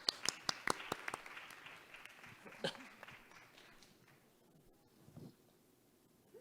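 A few sharp, separate claps from a Korean Won-Buddhist gathering's audience stand out at first, then thin into scattered clapping and rustling that fades to near quiet, with a brief late burst.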